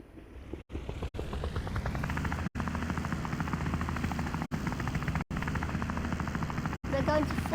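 A helicopter in the Wobbly Life video game gives off a steady, loud rotor whir and engine drone that runs throughout, broken by several abrupt momentary dropouts.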